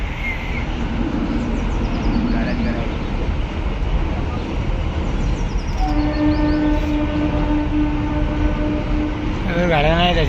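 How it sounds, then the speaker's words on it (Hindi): A train rolls steadily past with a continuous loud rumble and wheel clatter, close by. A horn sounds partway through and the noise holds for the whole span; no clear talk stands out over it. "फिर से एक ट्रेन आ रही है, एक गई एक आएगी।"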